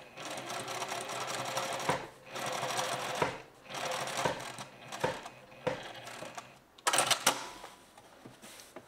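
A sewing machine stitches a seam in several bursts of whirring separated by short pauses and handling clicks, close and fairly loud.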